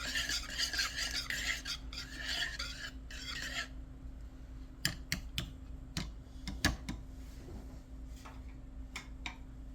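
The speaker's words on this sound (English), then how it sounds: "Just kind of lightly whisk them" Eggs being lightly whisked in a bowl: a steady scraping, stirring rasp for the first few seconds, then scattered sharp taps and clicks of the whisk against the bowl, fairly close and moderate in level, with no talking.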